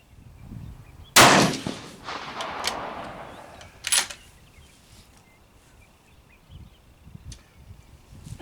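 Rifle fired at a shooting range with vintage 200-grain Sierra MatchKing handloads: one loud, sharp shot with a long, rolling echo, then a second, shorter crack a few seconds later, with quiet outdoor ambience between.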